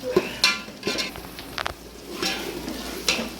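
Ginger garlic paste sizzles gently in a pan for biryani while a spoon stirs and scrapes it, making a soft steady fry with several sharp scraping strokes close by.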